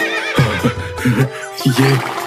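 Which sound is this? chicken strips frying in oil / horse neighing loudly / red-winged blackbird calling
horse neighing loudly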